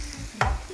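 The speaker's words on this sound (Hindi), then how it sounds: "यहाँ हम लोग गार्लिक को, चॉप गार्लिक को थोड़ा सा सौते करेंगे।" Chopped garlic sautéing in a pan in a television studio kitchen, a brief stir with a soft sizzle rising for a moment, close and fairly loud, with no talking.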